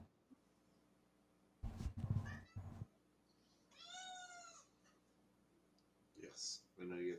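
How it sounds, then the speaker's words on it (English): A house cat meows close by in a quiet room, a single clear drawn-out call with a few softer mews after it, mixed with louder clicks and bumps nearby. "I was wondering which kitty it was"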